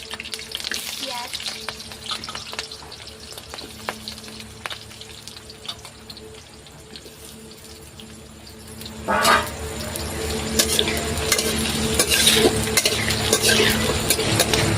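Onion and chili frying in a hot pan with oil, a soft sizzle under occasional stirring clinks that grows louder and busier in the second half.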